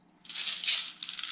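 A continuous dry, hissy shaking of maracas starts abruptly after a short silence and keeps going steadily for over a second, fairly close and moderately loud.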